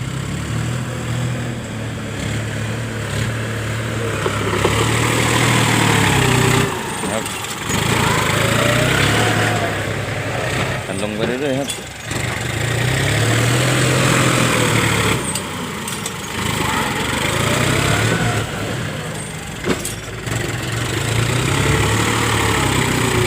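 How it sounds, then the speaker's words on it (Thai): A heavy tractor engine drones and revs for a long stretch as it pushes earth on a construction site, its pitch rising and falling as it works, loud and close. "ไปก็หน้าที่ของรถไถครับ ที่จะต้องมาดันลงดันลงครับ"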